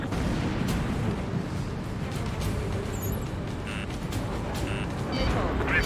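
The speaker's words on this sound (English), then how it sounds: "Firing railgun." Railgun firing in the Ace Combat 7 video game, a dense, continuous roar of blasts and rumbling explosions that stays loud throughout, with no clear separation between individual shots.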